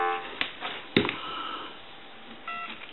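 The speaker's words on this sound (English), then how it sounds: "Give you some dial tone." A steady telephone dial tone from a converted single-slot payphone hums over a quiet line, broken by a few short clicks and taps.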